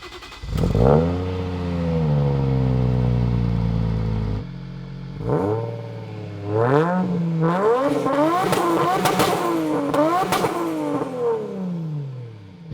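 A 400 hp Toyota Chaser with a 1JZ engine revs hard through its exhaust, climbing and falling in repeated loud surges, with a sharp burst of blips and crackle toward the end.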